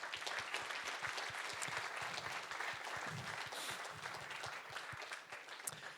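A tech meetup audience gives a speaker a warm round of applause, dense steady clapping from a modest crowd that stays even and then tapers slightly, fairly faint overall.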